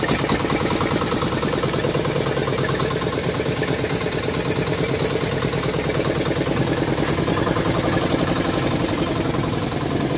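An engine idles steadily nearby with a low, even rumble and rhythmic chugging, no voices.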